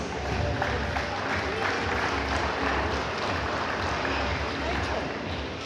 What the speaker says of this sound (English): I want everyone to give these handlers a huge round of applause.